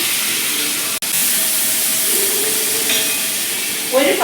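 Crushed small onions drop into hot oil with cumin and fennel and sizzle steadily in a pan, a loud close hiss with a brief scrape of stirring and a rising crackle near the end.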